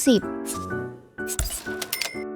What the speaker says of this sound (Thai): คิดเงินลูกค้านี่ไงล่ะ